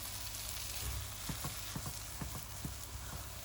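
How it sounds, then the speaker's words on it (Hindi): Egg halwa fries in a pan with a constant dense sizzle while a spoon stirs it, leaving a handful of soft, quick scrapes and taps under the hiss. "इसे अच्छी तरह भूनते रहें"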